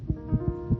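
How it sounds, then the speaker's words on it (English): A young child's racing heartbeat thumps in paired, muffled lub-dub beats, low and soft, repeating at a fast pace with no voices. "This is the sound of a racing heart."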